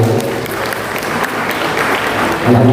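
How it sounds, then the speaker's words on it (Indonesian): An audience at an evening gathering bursts into applause for a guest, dense continuous clapping that carries through the whole moment at close range. "Tepuk tangan buat beliau."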